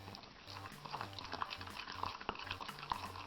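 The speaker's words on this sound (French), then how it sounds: "Donc là, on va juste le brasser un petit peu." Soft, close stirring and scraping as a bit of lipstick or gloss pigment is mixed into vaseline for a homemade lip balm, with faint small clicks against the container.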